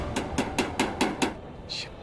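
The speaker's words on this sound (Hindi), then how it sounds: "ये ठक ठक ठक कौन कर रहा है ये?" Six sharp knocks in a quick, even rhythm, fairly close, followed by a brief high scrape or squeak; no talking.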